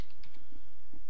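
Typing on a computer keyboard running Linux Mint, a short run of soft, close keystroke clicks with no talking.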